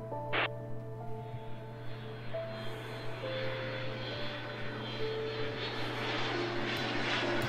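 An airplane takes off in the airport-control game Mini Airways, a steady engine drone with a brief bright chime near the start and faint tonal blips, heard alone without talk.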